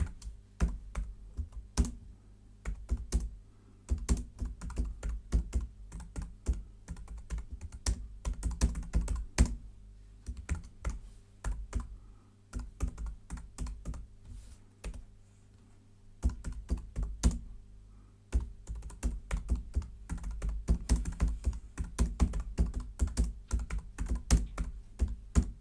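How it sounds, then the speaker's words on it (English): Typing on a computer keyboard: bursts of quick clicking keystrokes separated by short pauses, close and fairly quiet, with no voices. "If I start typing on this now,"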